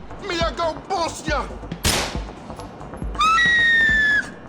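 A single sharp gunshot rings out in Grand Theft Auto IV, right after a stretch of people talking, and is followed by a steady, high whistling tone lasting about a second.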